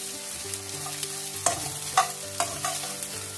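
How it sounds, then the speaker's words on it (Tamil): Cabbage, carrot and leek stir-fry together in a hot pan for vegetable fried rice, a close, continuous sizzle punctuated by several sharp scraping knocks of the spatula at roughly half-second to one-second intervals, with no talk. "இந்த டைமில் நாங்கள் மரக்கறிகளை சேர்ப்போம்"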